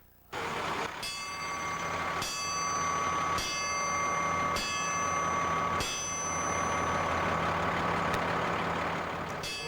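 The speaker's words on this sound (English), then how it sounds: "company members stood at attention as the bells were chimed in sets of 3 at 10:05" Fire station bells in Inman ring in repeated struck groups during a firefighters' memorial ceremony, each strike leaving a long bright ringing tone that overlaps the next, heard clearly over a steady outdoor background with no talking.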